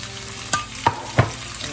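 Onions, carrots, peppers and garlic sizzle softly in a pan for summer soup, with three quick spoon scrapes or knocks against the metal over the steady fry.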